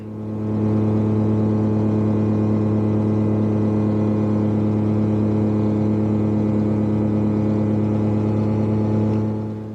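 A self-launching glider's engine drones steadily during the climb-out after takeoff, a loud, even hum with a strong constant pitch and a faint buzzing texture that holds for the whole stretch, with no speech.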